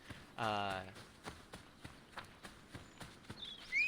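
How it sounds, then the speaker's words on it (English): Horse climbing a mountain in an Assassin's Creed video game, with rhythmic hoof clip-clops repeating at a steady gait, fairly quiet and close, while a person briefly speaks near the start. "Horses are, even in this game, are pretty good at climbing mountains."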